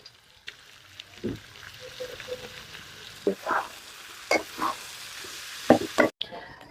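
Boiled chickpeas and potatoes are stirred in a pan over a quiet, low sizzle, with sharp, intermittent scrapes and knocks from the spoon against the metal.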